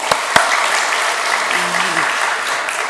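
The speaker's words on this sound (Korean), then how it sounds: "우리 한 번 더 하나님께 영광의 박수 드리겠습니다." A church congregation claps steadily during Sunday worship, a continuous patter of many hands with a couple of sharp close claps and a brief voice rising beneath it.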